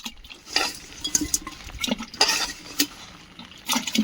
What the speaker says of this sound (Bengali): কই মাছ এগুলো কই মাছের পাত্রে ঢেলে দেবো